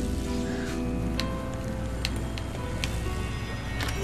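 Steady rushing water from a waterfall in the video game Child of Light, a constant broadband wash with faint game chimes on top.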